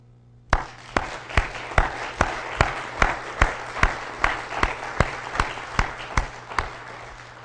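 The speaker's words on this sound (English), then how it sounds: "I would like to give all of our county employees a round of applause" At a county board meeting, the audience gives a round of applause for county employees: sharp, evenly spaced claps ring out in a steady rhythm, close and fairly loud above a low room hum.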